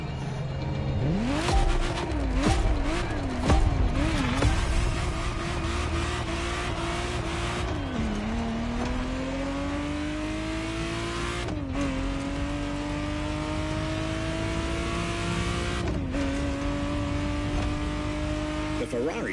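Ferrari Testarossa engine in the racing video game The Crew Motorfest, revving and accelerating through rising gear pulls with brief shift drops, loud and steady under a narrator's voice throughout.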